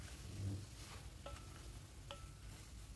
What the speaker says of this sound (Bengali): তো আবারও ভালো করে এটাকে কষিয়ে নেব।